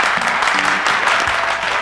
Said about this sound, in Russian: помещение наполняется бурными овациями